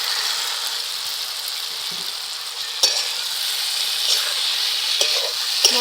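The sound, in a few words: fried cauliflower added to spiced oil, sizzling in pan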